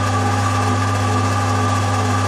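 A permanent-magnet alternator spins at about 960 rpm while producing roughly 340 watts at 230 volts. It gives off a steady, close mechanical hum with constant tonal whine and even vibration throughout, with no voices.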